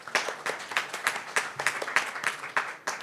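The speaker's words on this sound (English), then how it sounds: "So a big round of applause for them." At a product launch showcase, an audience claps in a steady, rhythmic beat of roughly three claps per second. The clapping is moderately loud and continues throughout.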